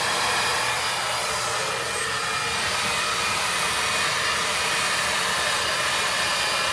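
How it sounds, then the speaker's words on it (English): A hair dryer set on high heat blows continuously with a steady, loud whooshing roar that holds level throughout and has no talking over it. "I've got the heat of my dryer on high at this point"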